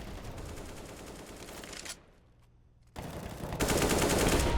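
Rifle fire sprays toward a smoke cloud in CS:GO, dense rapid bursts that stop for about a second, then return louder and continuous.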